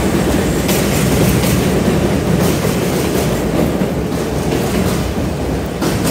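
A train rumbles and clatters past close by in Norwood, Bronx, New York, loud and continuous with steady rhythmic clacking of wheels on rails and no voices.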